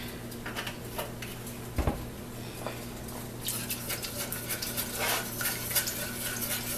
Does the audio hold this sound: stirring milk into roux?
yes